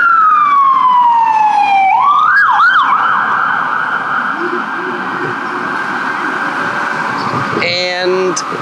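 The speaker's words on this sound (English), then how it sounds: "There's a fire truck going by" A fire truck's loud wailing siren sweeps down, yelps briefly, then holds a steady tone over traffic rumble as it passes nearby on Kalakaua Avenue in Waikiki, Hawaii.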